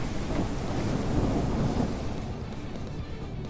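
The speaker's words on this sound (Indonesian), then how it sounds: "Ah, kok hujan sih, kan jadi mati apinya" Rain and thunder rumble in the game Troublemaker, a dense, steady wash of noise that swells loudly and then eases slightly, with no talking.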